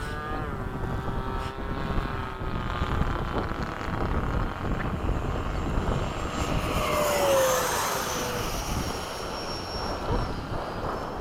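An F-5 and an F/A-18 jet fly in formation overhead at Bayside, a continuous roaring engine wash that swells and changes pitch as they pass, loud and sustained for about eleven seconds with no talk.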